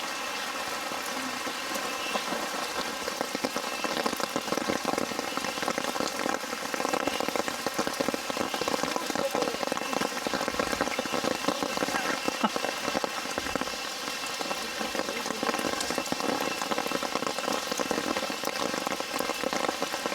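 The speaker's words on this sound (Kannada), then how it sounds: "ಇವಾಗ ಫುಲ್ ಮಳೆ ಅಂದ್ಕೊಳ್ಳಿ ಸ್ನೇಹಿತರೆ, ಸಕಲೇಶ್ವರಲ್ಲಿ ಹೆವಿ ಇದೆ" Heavy monsoon rain pours near Abbi Falls in the Sakleshpur area, a dense, constant hiss of drops hitting surfaces that stays loud and even throughout, with no talk over it.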